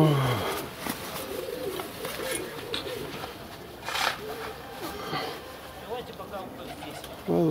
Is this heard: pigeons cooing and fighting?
yes